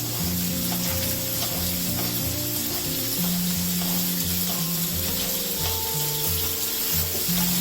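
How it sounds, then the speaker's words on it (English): Bacon dropped into hot oil gives a steady, close, continuous sizzle that holds throughout, with soft background music underneath. "So while the oil is heating up, you want to drop in your bacon."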